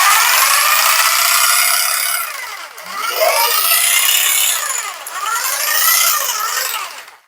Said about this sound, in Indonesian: Oke, jadi kita cek dulu untuk suara mesinnya.